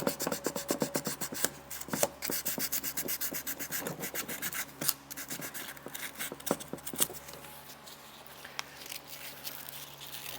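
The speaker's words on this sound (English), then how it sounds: "piece of 220 sandpaper, clean this up" A carburetor part is hand-sanded with 220-grit sandpaper in quick, close, scratchy back-and-forth strokes, dense at first and then thinning into sparser rubs.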